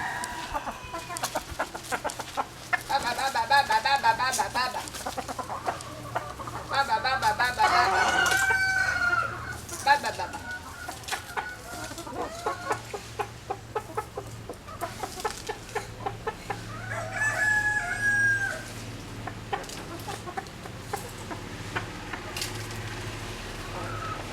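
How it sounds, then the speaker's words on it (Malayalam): Hens cluck and chatter close by while a rooster crows a couple of times in the background, with scattered rustling throughout. "കോഴിമക്കളെ നമ്മുടെ വീടിന് ചുറ്റും വലം വെച്ച് അവിടെയും ഇവിടെയും ഒക്കെ ചിക്കിച്ചകഞ്ഞ്"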